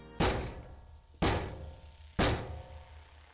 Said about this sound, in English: A pounding on one of the doors.